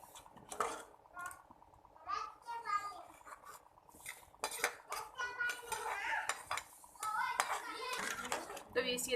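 A metal spoon clinks and scrapes against a pot while scooping red lentil masoor dal, with repeated light knocks; a voice talks over the utensil sounds.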